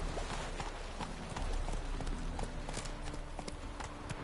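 A horse gallops in The Witcher video game, with rapid rhythmic hoofbeats running steadily under a dense wash of game sound, moderately loud and close.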